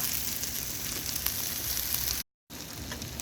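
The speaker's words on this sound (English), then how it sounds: "So you just let that saute for 30 seconds until it becomes fragrant." Garlic sautés in a pot with a steady, dense sizzle that holds close and even, interrupted by one short gap of silence.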